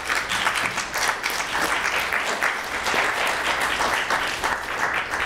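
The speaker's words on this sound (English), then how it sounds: "Please give her a round of applause" An audience at a school mock court event gives a round of applause for a councilwoman; steady, dense clapping from many hands in a room, continuous and evenly loud throughout.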